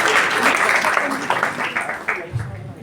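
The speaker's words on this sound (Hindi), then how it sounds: "उनके लिए जोरदार तालियां बजाई जाए" An audience at an Arya Samaj annual gathering applauds in a dense, continuous patter that thins toward the end, with a voice speaking over the clapping.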